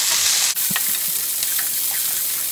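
Chopped onion and a green chilli sizzle steadily in a hot pan, with a constant close frying hiss broken by a few light clinks and scrapes of stirring.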